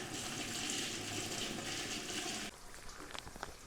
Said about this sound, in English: if I put water directly down that pipe, when it fills out, it should come out there if it's not blocked